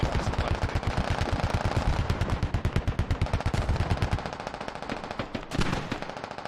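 DShK heavy machine gun firing in a large 50-versus-50 military shooter game, long rapid bursts of loud, heavy thudding shots in quick regular rhythm, tapering near the end with scattered distant gunfire behind.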